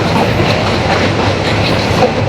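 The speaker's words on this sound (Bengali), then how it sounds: "এই মুহূর্তে কপোতাক্ষ এক্সপ্রেস ট্রেনের গতি হচ্ছে" Kapotaksha Express passenger train running on rails near Paksey station, a loud, continuous rumble with rhythmic rail clatter heard from inside the moving train.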